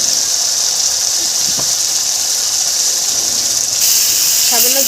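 Masala fries in a pan for chholar dal, a steady, loud hissing sizzle that fills the whole stretch and swells slightly near the end, with faint scraping underneath.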